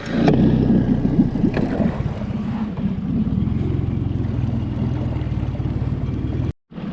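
Micro skiff outboard motor idling in a shallow Everglades canal, a steady low rumble close by with wind buffeting the microphone, running continuously before a brief cutout near the end.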